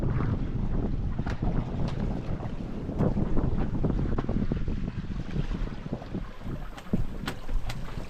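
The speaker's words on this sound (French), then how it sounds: "Il pleut, le vent est monté, pas très fort, 15 nœuds" Wind of about 15 knots with rain on a sailboat at sea off French Guiana, a constant close rush of wind over the microphone with scattered crackling hits throughout.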